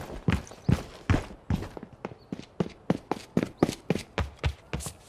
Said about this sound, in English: Very fast-paced tracer footsteps.